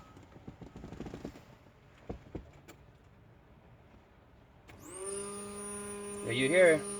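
Electric fuel pump in a turbo B13 Sentra primes after the key is turned on, a steady high electric whine starting abruptly after some faint clicks and handling noise, with a rising buzzing hum near the end.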